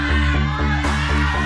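A studio audience at a noontime game show shouts together in a dense, loud, sustained roar with rhythmic pulses, as if chanting in unison, close and continuous.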